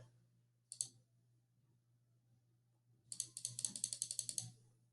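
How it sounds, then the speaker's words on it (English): Crisp computer mouse clicks while building a Scratch clicker game: a short early burst, then a fast, steady run of rapid clicks for over a second, close and clear over a low steady hum. "Okay, so we're clicking."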